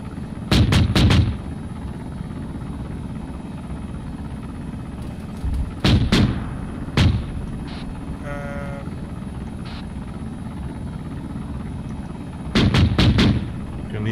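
A game helicopter fires its guns at enemy anti-aircraft positions in three short, loud bursts spaced several seconds apart, over a constant engine and rotor drone.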